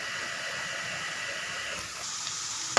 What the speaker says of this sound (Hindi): गोदड़ों को फ्राई करना है